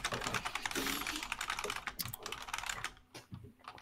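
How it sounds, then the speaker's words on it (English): Fast, busy typing on a computer keyboard, with dense clattering keystrokes close up that thin out and turn sparse toward the end. "you're typing away"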